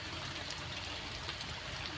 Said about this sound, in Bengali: পানি পড়তেছে এখান দিয়ে